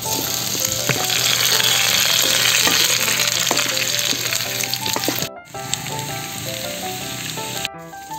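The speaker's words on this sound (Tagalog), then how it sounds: "Pagkatapos na nating igisa ang balat" Beef skin and beef fat sauté with onion in a hot pan, giving a loud, steady, close sizzle with scattered stirring clinks and scrapes and two brief dropouts.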